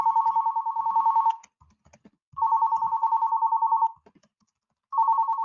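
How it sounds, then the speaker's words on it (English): A steady electronic ringtone tone sounds in repeated bursts of about a second or more, separated by short pauses, with faint keyboard clicks between rings. "you'll hear a ringing sound, so I apologize for that noise in advance"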